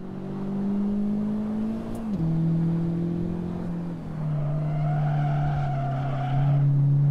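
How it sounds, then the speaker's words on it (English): Honda car on a track meet circuit in Assetto Corsa-style sim racing, steady engine drone with pitch dips as it slides through induced oversteer, tires scrubbing and faint squeal layered over the engine. "A little induced oversteer there"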